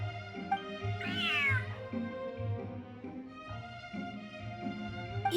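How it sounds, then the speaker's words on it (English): A cat in the video game Genshin Impact lets out a clear, rising meow over a soft musical backdrop, followed by quieter game music for the rest of the moment. "Whoa, this cat is way bigger than the others."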